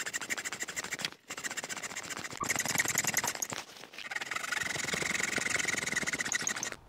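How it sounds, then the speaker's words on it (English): Hand saw cutting dovetail joints in wood, a steady rasping back-and-forth scrape in several bursts with brief pauses between strokes, close and fairly loud, with no talking. "Do everything hand sawing, Dean, that's the way forward."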